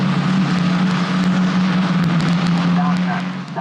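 Italian F4 single-seater race cars at Imola circuit hammering over the ripple strip into the first corner, a loud continuous engine drone throughout under a commentator's voice.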